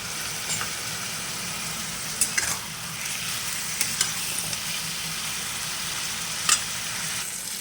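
Raw chickpeas and spices fry in a pan, making a soft steady sizzle with a few sharp clicks and stirring knocks scattered through, no voices.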